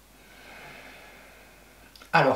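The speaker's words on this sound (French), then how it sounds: "on va à nouveau faire 3 respirations" A quiet, drawn-out breath in during a stress-relief breathing exercise, ending with a sharp, loud exhale or snort right at the end.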